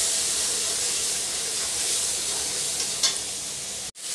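Onions and MDH rajma masala roast in a pan, a dense continuous hiss of frying that runs steadily before cutting off abruptly near the end, no voices.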